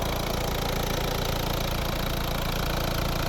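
A 2014 facelift Peugeot 5008 with a 1.6 HDi diesel engine runs at a steady idle, a loud, even, dense drone with slight knocking texture, close and continuous, no voices.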